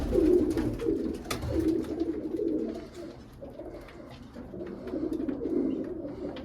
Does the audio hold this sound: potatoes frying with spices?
no